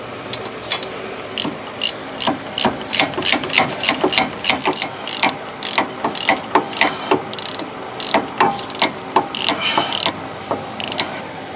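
A ratchet with a tiny low-profile socket clicks in rapid, uneven bursts as it works a front hub bolt on a 2003 Chevy Suburban, close and loud with short pauses between strokes.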